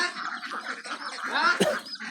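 A flock of ducks quacking at a duck farm beside a muddy pond, a dense, overlapping chorus of nasal calls with one louder honk near the end.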